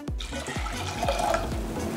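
Water is poured into a cooking pot for a pickle brine alongside distilled vinegar, a steady close splashing stream with faint gurgling and no talk.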